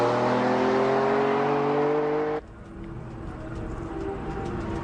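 A Lamborghini Diablo accelerates hard with a loud engine note whose pitch climbs steadily before cutting off abruptly, leaving a quieter rumbling background.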